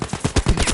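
Rapid automatic gunfire in Battlefield 5 during a fight around a church in Provence, a close, loud burst of about six heavy punchy shots in quick succession.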